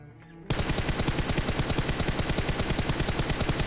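Automatic gunfire in the video game PUBG rattles in a rapid, even burst that starts abruptly and stays loud and close for about three seconds.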